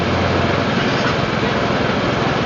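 A Honda TMX125 motorcycle engine runs steadily and loud up close, a dense high-pitched buzz that holds for the whole stretch with no pauses.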